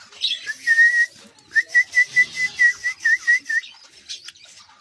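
A cockatiel in an aviary gives a clear, high whistle: one sustained note, then a rhythmic run of about nine short repeated whistles, close and loud with no talking.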